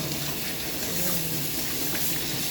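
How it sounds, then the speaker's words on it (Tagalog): Vegetables being rinsed under running water at a sink, a steady close hiss of flowing water with no talk. "Pag maghugas ako ng gulay guys, ganito talaga."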